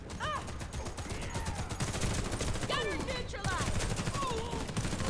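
Rapid SMG bursts from the ZX84 in the shooter Warface, dense crackling gunfire running throughout amid game effects and a busy mix, with no clear speech over it.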